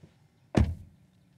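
A rear door of a 2019 Honda Grace LX Hybrid sedan shuts with a single solid, close thud and a short rattling decay. The surroundings are otherwise quiet.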